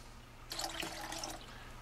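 Biodegradable cleaning solution poured from an unscrewed bottle into an ultrasonic cleaner tank for a Glock 17, a faint liquid splash starting halfway through and continuing steadily over a low hum.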